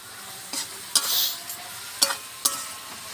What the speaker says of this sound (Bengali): দিয়ে এবার এটা আমি ভালোভাবে কষে নেব